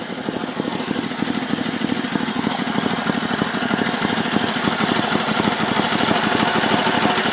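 A 1974 Sears Suburban SS16 garden tractor engine runs steadily with a rough, rapid putter and a mechanical clatter, close and loud from start to finish.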